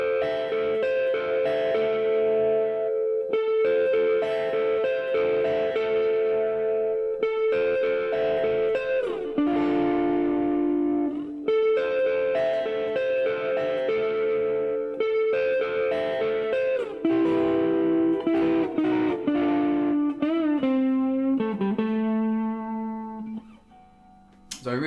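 A distorted electric guitar plays a minor-key blues solo with bent notes and sustained phrases, loud and continuous, ending on a fading chord.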